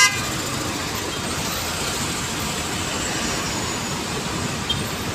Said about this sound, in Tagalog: Baka LRT yan.